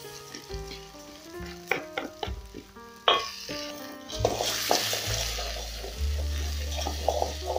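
Washed rice tipped into a pan of soya chunks frying with turmeric and spices, bringing a loud, steady sizzle and scraping stirring that builds partway through, with no talk.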